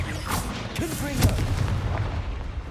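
A Confringo blast spell cast in the video game Hogwarts Legacy inside a cave, a booming, rumbling burst with a sharp crack near the middle, heard close over a reverberant background.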